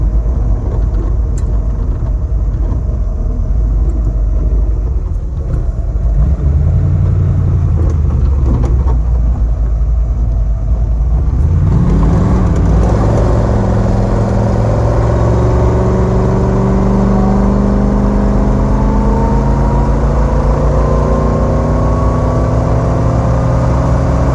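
A 1934 Ford 3-window coupe engine runs loud and close on a drive: a steady drone first, then it revs and climbs through rising whines as the car accelerates, with no speech over it.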